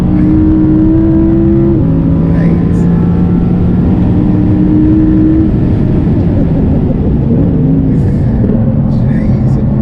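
Audi R8 engine on a race track, loud sustained droning note rising and falling with throttle changes heard from inside the cabin, with people talking over it.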